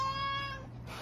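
A single drawn-out cat meow, clear and close, fading off after about a second.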